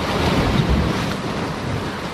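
Ocean waves at sea during skipjack tuna fishing from a small boat, a loud continuous wash of water and wind noise with dull thumps against the hull, no voices.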